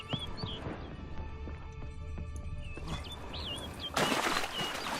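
Bird wings flap in The Witcher 3: Blood and Wine amid forest ambience, with chirping calls throughout and a louder burst of rustling flutter near the end, up close.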